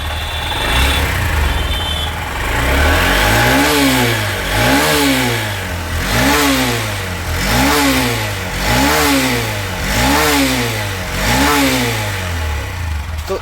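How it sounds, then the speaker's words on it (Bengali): Honda Shine SP BS6 motorcycle engine running just after starting, loud and close, pulsing in a steady repeating rev rhythm throughout with no talk. "দ্বিতীয় সেলফে কিন্তু গাড়ি একদম স্টার্ট হয়ে গেছে"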